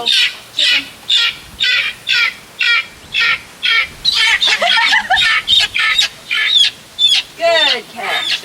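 Chickens in a farmyard squawk and cluck loudly and close by in a rapid run of bursts while being moved into a hoop coop. Voices are briefly heard among the calls.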